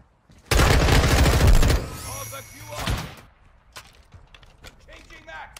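Gunfire in the game Call of Duty: Modern Warfare 2 beta: a loud, dense burst of rapid automatic shots that lasts about a second and a half, then scattered quieter in-game clatter and effects.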